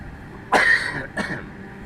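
A person with a cold coughing during a live stream: two close, harsh coughs, the first longer and the second shorter, with no talk.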